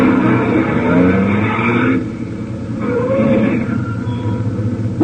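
A truck's engine roars on an open road, pulling steadily close, then drops off abruptly before a lower idling rumble resumes as it halts; no voices.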